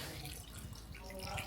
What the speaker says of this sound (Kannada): ಮುಳುಗುವಷ್ಟು ನೀರನ್ನು ಹಾಕ್ಕೋಬೇಕು ಇವಾಗ ಬೇಯಿಸೋದಕ್ಕಿಡೋದಕ್ಕೆ